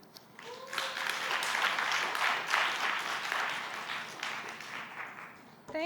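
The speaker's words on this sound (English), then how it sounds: "A huge round of applause for that." Applause from an audience at the Tools4Youth Marketplace event swells quickly into sustained, dense clapping that holds for several seconds before fading, with a voice starting up briefly at the end.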